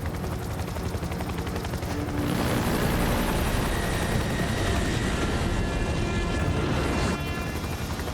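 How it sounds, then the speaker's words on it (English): A civilian helicopter's rotor beats loudly and steadily throughout, with a rhythmic thumping and a dense whine that rises slightly partway through. "I'm in a civilian helicopter"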